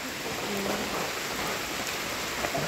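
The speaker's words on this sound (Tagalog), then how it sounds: "Malakas ang ulan." Heavy rain falling steadily, a dense unbroken hiss of drops close by, with no voices.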